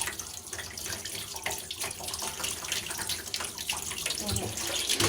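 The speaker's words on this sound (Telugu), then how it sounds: "మామూలుగా నీళ్ళు వస్తున్నాయి" Tap water runs steadily into a sink while wheat dough is washed under it by hand, a continuous close splashing flow with faint stirring of water, no talk.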